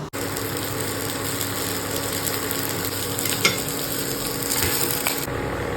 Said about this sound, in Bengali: এখানে দিয়েছি তোমার পেঁয়াজ কাঁচা লঙ্কা আর রসুন এটাকে ভালো করে একটুখানি ভেজে নিচ্ছি